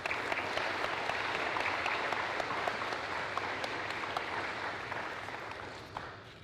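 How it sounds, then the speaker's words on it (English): A high school scholarship ceremony crowd gives a round of applause, steady dense clapping that holds evenly and then begins to taper off near the end. "and one more round of applause."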